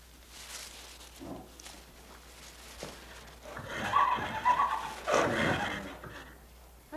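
A newborn Irish foal whinnies in a couple of moderately loud calls over a quiet stable background, following a few soft rustles.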